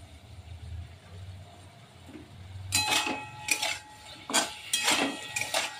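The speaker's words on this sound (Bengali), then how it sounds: "ঢাকনাটা তুলে নিলাম" A metal lid lifted off a pot of frying potatoes and pointed gourd, a quiet hum and then several bright clanks and rattles of metal against metal in quick bursts, close by.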